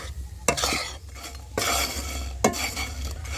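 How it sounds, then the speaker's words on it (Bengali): Ginger pieces being stirred in thickening sugar syrup in a pan, with a utensil scraping and clinking in sharp bursts over a steady soft bubbling, close up with no voices. "আস্তে আস্তে এইভাবে নাড়তে থাকবো, দেখবেন আদার গায়ে কিন্তু খুব সুন্দরভাবে একটা পাতলা স্তরও পড়ে যাবে।"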